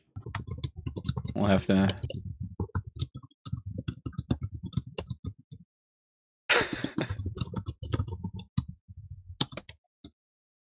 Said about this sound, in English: Some frantic typing from Ruff there